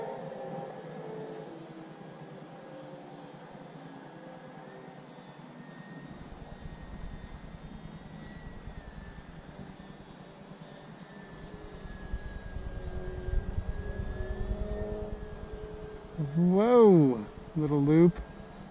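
A UMX Turbo Timber RC airplane flies on an evening with light wind, its electric motor a thin steady whine at a distance, swelling louder near the end as it passes close.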